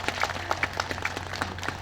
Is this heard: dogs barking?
no